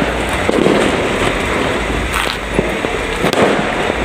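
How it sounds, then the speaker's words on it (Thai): New Year fireworks set off at midnight in Nakhon Pathom, Thailand: a dense, continuous crackle of bursts and pops, some sharp and fairly close, over a steady hiss. "ตอนนี้เริ่มจุดพลุกันแล้วนะคะ"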